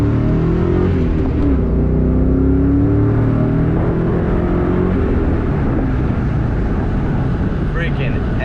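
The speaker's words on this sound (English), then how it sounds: "I don't think I gave you guys a full throttle exhaust on a MagnaFlows" A Ford Mustang convertible with a MagnaFlow exhaust is driven at full throttle, its loud, deep exhaust roaring continuously with slowly shifting pitch as it pulls.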